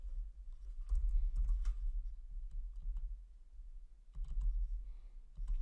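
Keystrokes on a computer keyboard typing a folder path into a Windows installer, quick irregular clicks in short bursts with a pause in the middle, close and moderately loud.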